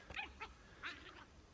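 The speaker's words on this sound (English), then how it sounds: "And the dogs are fighting in the cattails." Dogs fighting in cattails, a few sharp yelps and whimpering barks in short bursts at moderate distance, faint against quiet outdoor background.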